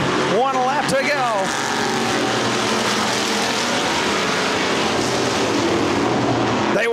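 Race cars roaring around the Winston Speedway oval on the final lap, a loud continuous engine drone with a car sweeping past early on, under an excited announcer's commentary.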